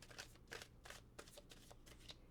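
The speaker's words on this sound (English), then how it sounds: "I'm going to do a hand over hand shuffle." Cards being shuffled hand over hand, a soft rhythmic series of papery riffles and slaps, close up and quiet, with no talking.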